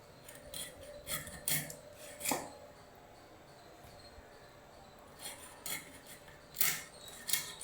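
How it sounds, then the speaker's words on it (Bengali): A freshly caught rohu fish tail is chopped into small pieces, fins trimmed, with close crisp cuts and scrapes coming in irregular bursts, quiet gaps between them and no talk. "তারপর লেজের পাখনাটা কেটে এবারে লেজটাও ছোট ছোট করে কেটে নিচ্ছি।"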